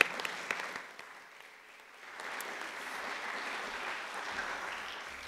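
A lecture audience applauds a speaker at a college event, a moderate round of clapping that dips briefly midway then swells again and continues steadily, somewhat distant and without voices over it.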